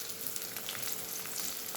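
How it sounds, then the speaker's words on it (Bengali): Salted onion frying in a pan gives a steady, soft sizzle with faint crackles, continuous and close by, with no talking. "এই পেঁয়াজে নুনটা দিলে কী হয়, পেঁয়াজটা তাড়াতাড়ি ভাজা হয়ে যায়"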